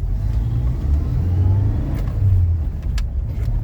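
A 1998 Toyota Tacoma truck with a brand-new clutch pulls away under acceleration, its engine a steady, fairly loud mid-pitched drone with road rumble heard from inside the cab, swelling slightly as it revs over several seconds.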